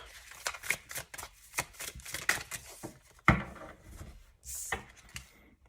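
Tarot cards are handled and shuffled close up, a run of quick papery riffles and soft taps in uneven bursts, with one sharper knock midway.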